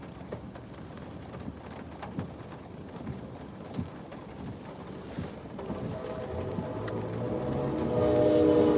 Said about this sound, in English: Oh no! Oh, a train. A train.